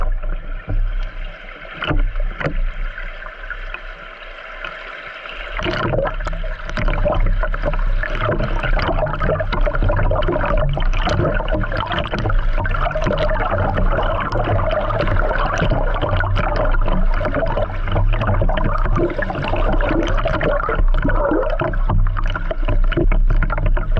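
Rushing river water heard from a GoPro floating downriver by a Vancouver Island campsite, a steady, loud wash of flowing water and churn that grows fuller after the first few seconds and continues without talk.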